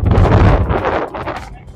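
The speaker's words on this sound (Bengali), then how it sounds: "তো দেখো প্রচন্ড হাওয়া দিচ্ছে" Strong gusting wind buffets the microphone in loud, uneven bursts at Baba Mandir near Changu Lake, easing slightly toward the end.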